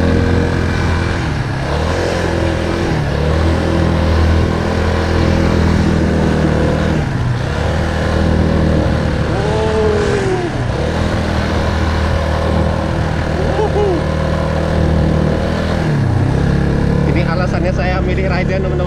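A motorcycle engine labours uphill on a steep road, droning loud and steady for about twenty seconds with shifting pitch as the rider works the throttle, while people talk over it.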